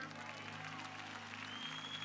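Faint, distant applause from a Baptist church congregation during a Sunday service, a soft continuous patter of hands over a low steady hum.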